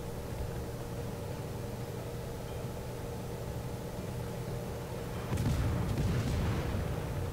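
A single booming salvo from the Smolensk cruiser's guns in World of Warships breaks through a steady low ship rumble near the end.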